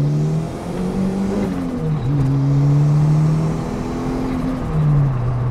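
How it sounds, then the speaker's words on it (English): Ford Fiesta RS Turbo on a motorway slip road, accelerating under boost with a rising engine drone that dips briefly at each gear change and then climbs again, loud and steady from inside the cabin. "Let's give this a little bit of boost."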